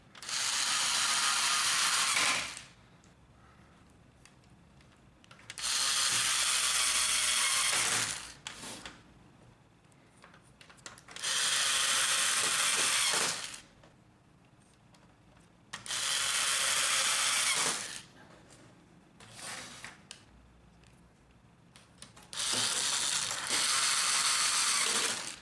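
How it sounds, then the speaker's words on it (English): Screws being driven back into a Brother laser printer drum unit (HL-9310 / MFC-L9570 type), heard as five loud, close bursts of ratcheting mechanical whirring, each lasting a few seconds, separated by quieter gaps with faint handling clicks and no talk. "Reinstall the 5 screws."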